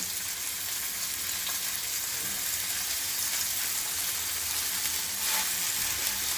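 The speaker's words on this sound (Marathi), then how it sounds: "तेल गरम झालेलं आहे तर बोंबील घालूया आपण" Bombil (Bombay duck) fish coated in flour and rava frying in hot oil, with a steady, even sizzle and crackle throughout and no talking.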